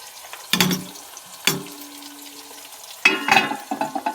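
Vegetables are cooked in a pan with a little water and stirred, giving a few bursts of scraping and sizzling over a low simmer, with a brief clatter near the end.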